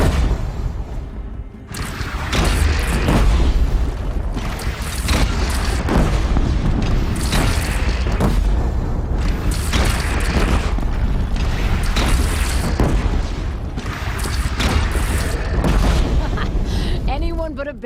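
Cannon fire in Horizon Zero Dawn: repeated heavy booms and blasts over a dense battle din, with voices shouting throughout.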